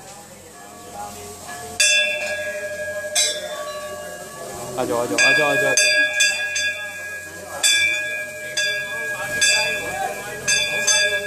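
Temple bell rung at Bagnath temple in Bageshwar during Dussehra worship, a series of bright metallic clangs with ringing overtones struck at irregular intervals while people talk and call out nearby.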